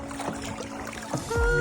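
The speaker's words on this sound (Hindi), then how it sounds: "ये हमारा हिम्मी बढ़िया चला रहा है यार नाव" Oars dip and pull a rowing boat across Naukuchiatal lake, with soft splashes and water swishes at close range before a louder knock and hum at the end.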